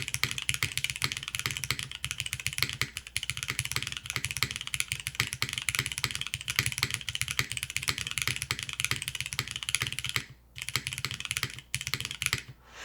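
Rapid, steady typing on a Finn 60XT mechanical keyboard, crisp close clicks and clacks in quick bursts with a short pause near the end, no voices.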